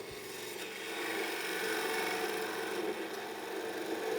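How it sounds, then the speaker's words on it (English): A bowl gouge shaving wood on a lathe while turning a Chippendale highboy part, a steady continuous rasping cut that holds at an even loudness for several seconds with no talk. "And I can go back to the bowl gouge to take that down."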